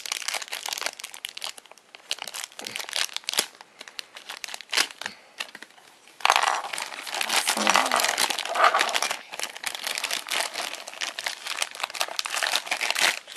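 Plastic packaging being torn and crinkled open to free a small Madagascar 3 Marty fast-food toy, with close, busy rustling and crumpling that grows denser and louder midway, briefly under quiet talk.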